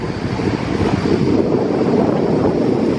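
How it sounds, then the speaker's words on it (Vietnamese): Waterfall pouring over rocks at Lùng Chin in high flow, a steady, loud broadband roar with no speech. "Đấy, đây là một thác nước rất là đẹp."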